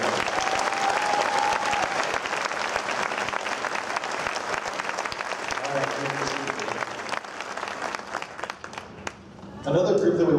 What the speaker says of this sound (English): Would you please help me applaud for all of them?